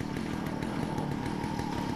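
A steady, buzzing chainsaw engine from Resident Evil drones continuously at a constant pitch, loud and close, with no pauses.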